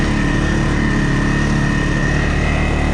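A CFmoto CForce 600 ATV engine labors steadily while climbing a long mountain trail, a constant loud drone with a low rumble and a steady mid-pitched tone, close and continuous with no pauses or talk.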